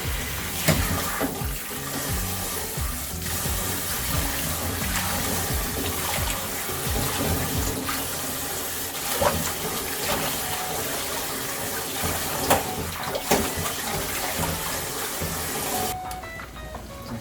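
Spinach rinsed in water before blanching, a steady rush of running tap water with splashing and occasional handling clatter close by, continuing almost throughout before cutting off near the end.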